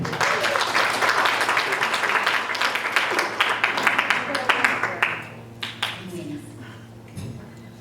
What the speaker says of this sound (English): let's please give a warm round of applause for Miss Nicole Graham